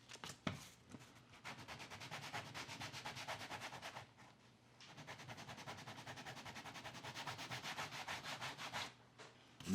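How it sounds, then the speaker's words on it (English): Rapid rhythmic scratchy rubbing strokes sanding a leather edge, close and steady, in two long bursts separated by a brief pause, with no talking. "Notice how I'm holding close to where I'm sanding"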